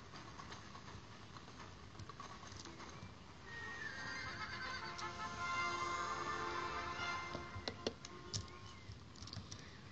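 A horse whinnies loudly over steady clip-clopping hooves in a horse-riding scene, with the hoofbeats growing stronger midway and no talking.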